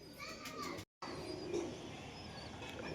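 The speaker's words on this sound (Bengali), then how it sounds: "দেশি গিরিবাজ লাইনের মাদি কবুতর" Desi Giribaz pigeons cooing softly at a distance, low murmuring coos among faint chirps and background chatter, with a brief dropout partway through.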